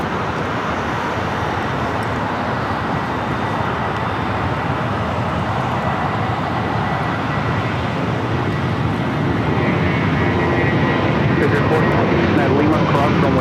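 A jet airliner roars at LAX in rough weather, a broad, loud rushing engine noise that swells slightly toward the end, heard continuously from the ground near the runways.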